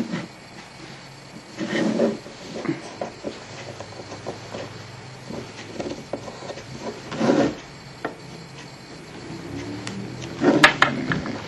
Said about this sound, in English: Now, just get your precision screwdriver and open the screws you see.